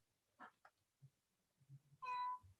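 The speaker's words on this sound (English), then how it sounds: "yeah, that's a cat." A domestic cat gives a single clear meow near the end, preceded by a few faint soft sounds in a quiet indoor room.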